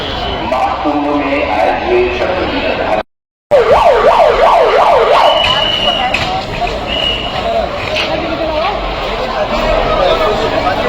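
An ambulance siren wails in a fast rising-and-falling pattern as it speeds toward a crowded fairground, loud and near over street noise, with a brief cut partway through and someone talking over it.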